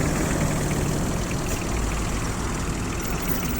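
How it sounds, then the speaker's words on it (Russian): A Yanmar AF-18 four-wheel-drive diesel mini tractor runs steadily at idle nearby, a constant dense clattering drone with an even, unchanging level throughout. "обзор мини-трактора Янмар АФ-18"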